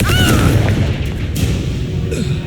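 A Confringo fire spell explodes in the video game Hogwarts Legacy, a loud booming blast that rumbles steadily throughout, with a brief crackling burst near the end.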